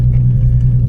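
A car engine runs close by, a loud steady low rumble with a constant deep tone, heard alone for under a second.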